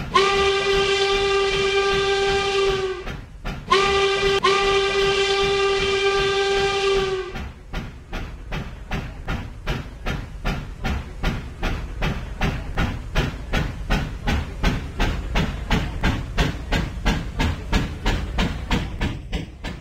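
Train on a historic Lancaster County railroad right of way sounds two long, loud horn blasts, then wheels clatter in a steady, rhythmic clickety-clack as the cars roll along.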